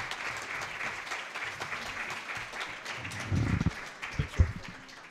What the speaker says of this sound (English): let's give a great round of applause to our panel